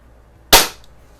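Predom Lucznik spring air pistol firing a single shot, a sharp, loud close crack that decays quickly into quiet.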